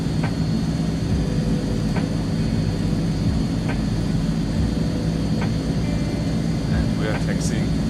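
A plane taxis in Microsoft Flight Simulator 2020, a steady engine drone and hum holding at a constant level throughout, with faint periodic ticks over it.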